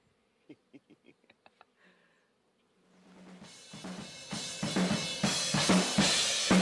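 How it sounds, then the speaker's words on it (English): Honey bees at a beehive break into a dense, rising buzz after a few scattered clicks and taps, the swarm noise swelling loud and close with rhythmic thumps beneath. "Watch what the bees do."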